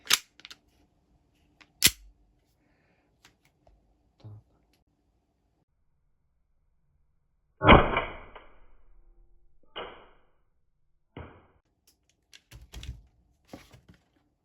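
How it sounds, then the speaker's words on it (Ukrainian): Several sharp pops from a toy foam-ball gun, spaced apart with quiet gaps, each followed by a brief thud or rattle, close by. "Тепер переходимо до стрільби з нашого улюбленого стрільбольного пістолету."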